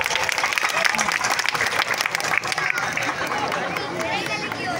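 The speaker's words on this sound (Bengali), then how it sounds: "বেস্ট গোলকিপারের জন্য জোরে একটা হাততালি।" A crowd at a village football tournament prize-giving applauds the best goalkeeper, a dense, loud wash of clapping with crowd murmur and a voice over it, easing slightly toward the end.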